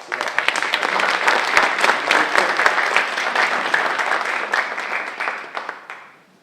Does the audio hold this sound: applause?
yes